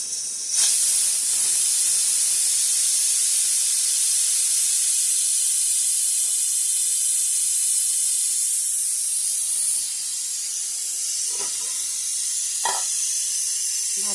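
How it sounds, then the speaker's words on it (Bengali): Rice boiling over in a pot on a home stove gives off a steady, loud steam hiss that runs unbroken throughout, with a few faint clinks late on and no talk. "ভাতটা উতল উঠে আসছে।"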